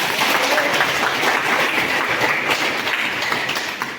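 Audience at a village assembly clapping with both hands raised, a dense, steady wash of applause lasting the whole moment and tapering slightly at the end.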